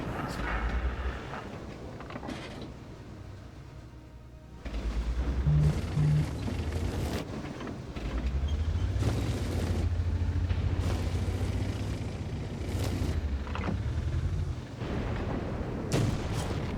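Booming tank-cannon impacts as HEAT rounds strike the heavily armoured turret of a 60 TP tank in a video game: repeated loud, heavy thuds over a constant engine rumble, with no voices.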